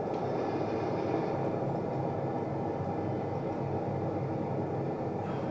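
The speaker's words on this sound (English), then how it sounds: "Wow, this train sounds like it's got a cold." A video game train simulator's locomotive engine drones in a steady, continuous rumble that fills the whole stretch at an even loudness, with no talk over it.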